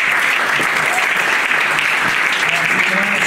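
Warm applause from the audience at a press conference for a Latin music festival in Milan, steady dense clapping filling the room with faint voices underneath.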